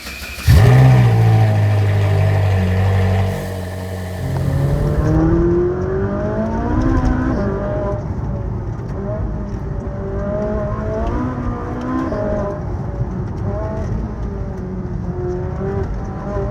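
A Ferrari 458 Italia's 4.5 litre naturally aspirated V8 roars loudly as the car launches, revving up with rising pitch, shifting, and pulling through repeated climbing engine sweeps in wet conditions.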